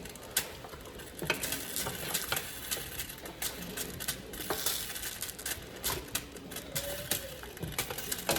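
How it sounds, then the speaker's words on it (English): Oxtail mixture with chopped habanero being stirred in a pot, with a spoon scraping and clicking in quick irregular taps over a soft background sizzle, close by and with no voices. "And I'm gonna mix it all in together."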